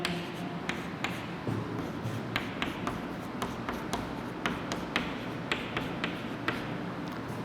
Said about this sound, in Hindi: अब लिखेंगे जो हमारे गुणनखंड आए हैं